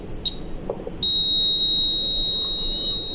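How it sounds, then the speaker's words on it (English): A multimeter's continuity buzzer, used while testing a MOSFET, gives two short blips and then a steady, loud, high-pitched tone that holds for about two seconds after some faint probe clicks. "We get a buzzer, a low resistance."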